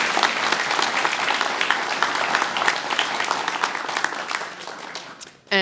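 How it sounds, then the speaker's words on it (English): Audience applause at a guide dog graduation ceremony, dense steady clapping from a crowd that slowly thins toward the end before a sudden louder burst. "Let's give him a round of applause."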